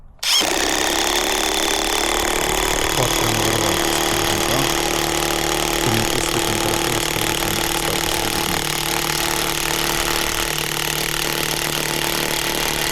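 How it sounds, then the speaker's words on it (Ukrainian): A cordless impact driver drives a 26 cm screw into an oak stump, a loud continuous motor whine with rapid hammering that starts abruptly and runs steadily to the end, with no talking. "чи зможе гайковерт закрутити цей 26 см гвинт у дубовий пень"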